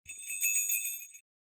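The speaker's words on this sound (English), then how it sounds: "I shook the bell." A silver sleigh bell shaken by hand gives a bright, shimmering jingle of high ringing tones for about a second, close and clear, then cuts off to silence.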